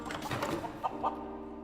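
Ducks in the Minecraft video game give a few short quacking, clucking calls near the middle, set over a steady droning game background with no talk.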